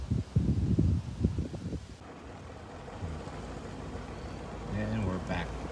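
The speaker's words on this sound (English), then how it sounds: "And this is windy." Wind buffets the microphone in loud gusts at a Cape Cod cranberry bog, then settles into a steady rush while a voice talks over it.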